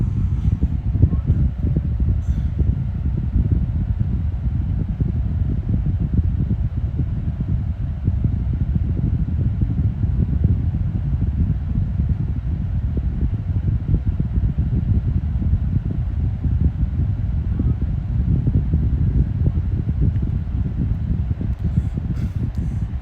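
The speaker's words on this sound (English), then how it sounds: "as it warms up, the fan speeds up. It gets faster and faster." A 2018 Holmes box fan with a shaded pole motor runs steadily, giving a continuous low whooshing rush of air with a constant loudness across the whole stretch and no talk.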